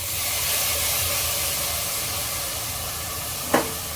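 Toor dal frying in a hot pan gives a steady, close sizzling hiss that holds level throughout, with one brief clatter near the end.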